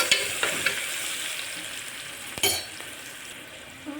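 Onions and curry leaves fry in hot oil with cumin, mustard seeds and turmeric, a close steady sizzle broken by several stirring scrapes and knocks, one louder clatter midway.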